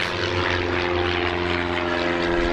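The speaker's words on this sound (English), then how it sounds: "And planes going over." A propeller airplane drones overhead, a steady loud engine hum holding level throughout with no voices.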